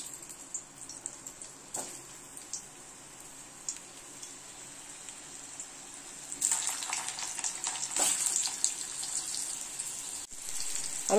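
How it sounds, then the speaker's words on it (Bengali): Boiled taro frying in ghee in a pan, a soft steady sizzle and crackle that swells louder partway through, with occasional stirring clinks, close by and without talk. "এটা আমি ঘিয়ের মধ্যে এখন ভেজে নেব।"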